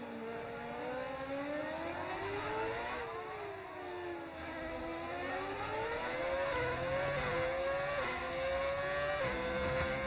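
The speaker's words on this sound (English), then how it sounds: "How do you get that engine sound? We're using mods." A modded Formula 1 racing car engine in a career-mode driving game screams at high revs, its pitch rising and dipping steadily through gear changes and corners in a continuous, steady drone with no speech.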